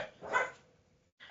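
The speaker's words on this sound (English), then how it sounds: "my dogs start barking when we're recording a podcast" A dog barks while a podcast is being recorded: one short, muffled bark, then a brief gap before a second bark begins, faint and heard from a little distance.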